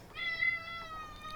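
A cat gives one drawn-out, rising-and-falling meow close by in a quiet indoor space, followed by a softer trailing tail of the call.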